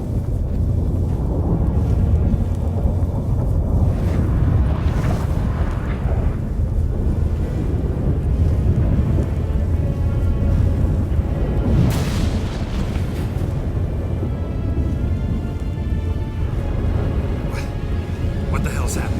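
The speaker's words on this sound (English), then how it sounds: "That a storm?" A storm rolls in within The Witcher 3: Wild Hunt, heavy wind and deep thunder rumbling continuously with louder surges, while characters speak over the din.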